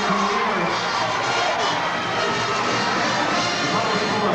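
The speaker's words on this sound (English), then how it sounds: "the reason you hear some noise from the crowd is because a lot of LaSalle fans in here as well" Loud, steady crowd noise and cheering from La Salle fans in a packed arena after a basketball comeback win over Temple. The roar stays dense and continuous throughout, with shouts mixed in.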